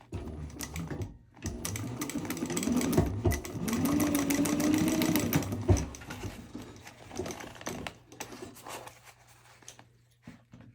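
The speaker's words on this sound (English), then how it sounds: "we're going to take it to the machine, and like the pattern says, we're going to just sew at 1/4 inch right here" A sewing machine stitches the corners of a fabric purse. The needle chatters rapidly in close bursts, with short pauses and a slowing as the seam ends and the fabric is handled.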